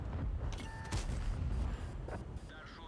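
Gunfire from the 277 in a video game, with low booming shots and a sharp report near the middle, set against a busy, rumbling battle background at a fairly quiet level.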